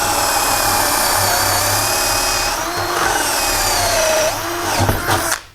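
A 12V cordless drill driver bores into pine wood with a spade bit on speed setting 2, whining steadily and loudly, then the pitch shifts and the motor cuts off near the end.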